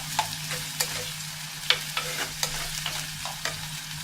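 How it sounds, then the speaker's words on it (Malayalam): Curry leaves and green chillies sautéing in a pan for a Kerala pork roast. The pan gives a steady low sizzle broken by sharp, irregular spatula clicks and scrapes as they are stirred, with no talking. "വേപ്പിലയും മുളകും ഇനി നമുക്കൊന്ന് നല്ലവണ്ണം വഴറ്റി കൊടുക്കാം"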